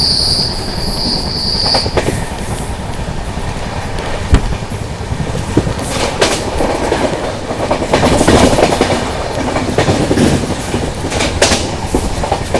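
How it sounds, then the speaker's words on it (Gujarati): Saurashtra Mail express train passing through Bhopalka railway station at over 100 km/h: a loud, sustained rush of wheels and rail clatter with rhythmic clicking and a brief high squeal at the start, continuing throughout without talk. "ઓ ભાઈ ફ્લેટ 100+ સૌરાષ્ટ્ર મેલ ક્રોસિંગ એ ભોપાલકા રેલવે સ્ટેશન ઉપર આપણી થઈ રહી છે."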